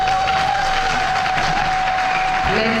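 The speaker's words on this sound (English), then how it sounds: "Give them a hand of applause." A crowd at a live Kenyan election event applauds a choir, a continuous roar of clapping and cheering under a steady sustained tone, with a brief low voice or sound near the end.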